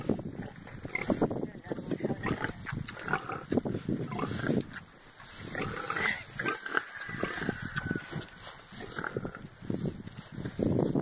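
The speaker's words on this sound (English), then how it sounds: "No, that's a pig." Pig grunting at Rooterville farm sanctuary in Melrose, Florida, with rough low snorts and grunts over steady wind noise while people talk nearby.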